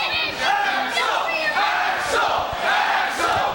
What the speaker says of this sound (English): The crowd is cheering for their hero, Axel Rotten.